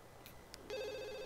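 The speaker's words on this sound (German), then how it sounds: "Ja, und irgendwer muss ans Telefon." A telephone rings in The Sims 2, a bright electronic trill that starts partway through and continues steadily after a couple of soft interface blips, fairly quiet overall.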